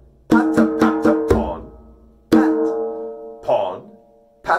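Djembe drum played in a patterned rhythm: a quick run of four sharp hand strikes, a pause, then single strikes and a rounder tone, close and loud with no talking.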